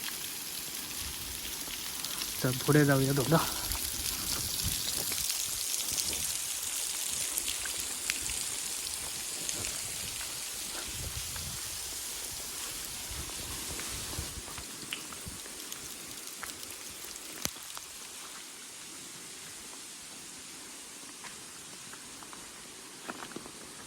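Baba waterfall at Kumbhavde, Amboli, with water falling from above, heard as a constant, moderately faint rushing hiss like heavy rain; a person speaks briefly early on.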